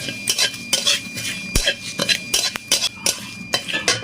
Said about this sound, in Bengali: মশলাগুলো দিয়ে কিন্তু খুব সুন্দর গন্ধ বেরিয়েছে দেখুন কেমন ভেজে নিচ্ছি